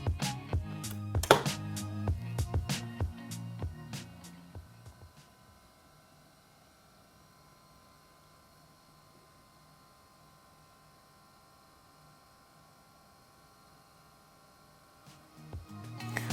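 A LiFePO4 battery charger runs after being plugged into a wall socket: a few seconds of handling clatter, then a faint, steady electrical hum and fan whine that continues alone.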